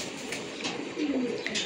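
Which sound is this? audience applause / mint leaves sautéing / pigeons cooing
pigeons cooing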